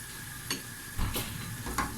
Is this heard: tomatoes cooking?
yes